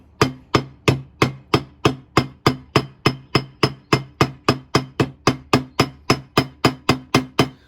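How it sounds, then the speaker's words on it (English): An old ball peen hammer strikes pins in a hickory machete handle, peening them over in a steady run of about twenty-five sharp, evenly spaced blows, close and clear with no voices. "I'm using a very old ball peen hammer for this."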